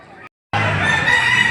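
A gamecock crows loudly and close at a rooster sale in Lipa, Batangas, with one sustained call after a brief gap of silence.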